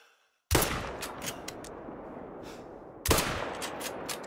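Two loud hunting rifle shots in theHunter: Call of the Wild ring out across the Russian wilderness of the Medved reserve, about two and a half seconds apart, each with a long rolling echo that fades slowly.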